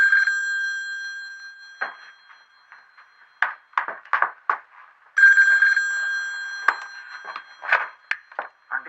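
A telephone bell rings in two long bursts inside an office, each burst followed by a string of short ring pulses, loud and close with no voices over it.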